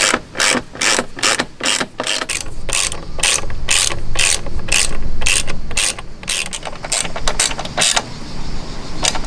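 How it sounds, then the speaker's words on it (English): Rapid, loud ratchet clicks come in quick bursts as bolts are snugged on an OEM undercover for a Suzuki V-Strom 800 motorcycle, with brief pauses between runs; no one speaks. "Snug all the bolts."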